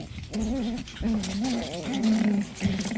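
A puppy growls and grumbles in repeated harmonic bursts during rough play with another dog at a socialization meetup, loud and close, with short pauses between rumbling bouts.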